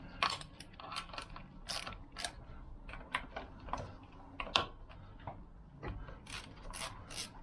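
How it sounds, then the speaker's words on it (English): A hand ratchet fitted with a screwdriver bit tightening clutch screws on a Lambretta Series 2 scooter, rapid clicking pawl bursts repeating close up in short runs. "The screwdriver fit that goes into the ratchet's perfect for these"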